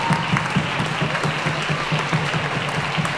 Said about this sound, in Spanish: Otro aplauso para él, venga.